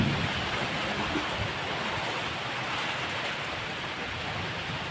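Rain pouring down during a thunderstorm with lightning, a steady broadband hiss of heavy rainfall that holds even throughout, with no voices.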